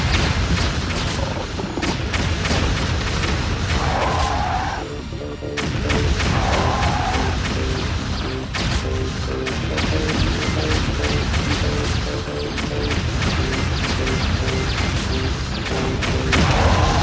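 Explosions and heavy blasts from a top-down shooter game called Alien Shooter, a dense continuous barrage of booms and gunfire with a few sharp louder hits, no voices.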